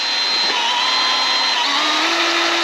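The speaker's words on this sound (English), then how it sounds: "We are pumping fluid now." A drill-driven pump pushing water whines steadily and loudly, its motor pitch holding then stepping up slightly partway through, a continuous mechanical drone with no speech.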